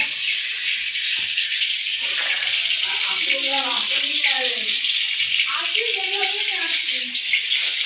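Tilapia fish fries in hot oil with a loud, steady hiss and crackle throughout, while someone talks over the sizzling.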